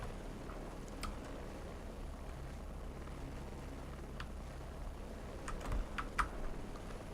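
Typing on a computer keyboard: light, scattered key clicks over a steady background hum, with a few sharper taps toward the end.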